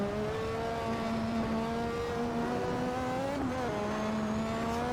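A 1960s Formula One car fitted with a 1200 BHP engine, accelerating hard with a loud continuous high-pitched engine howl that climbs through the revs, briefly dips at a gear change and keeps pulling, heard up close from on board.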